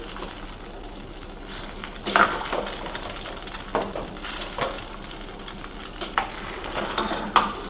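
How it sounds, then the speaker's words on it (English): A pot of beans and lentils cooks on the stove with a steady soft bubbling hiss, broken by intermittent stirring scrapes and clunks against the pot, close and moderately loud. "You allow it to simmer quite nicely."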